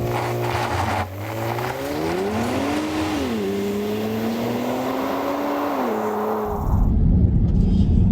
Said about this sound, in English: foot hard on the brake, down hard on the accelerator, launch control comes in, and then you're off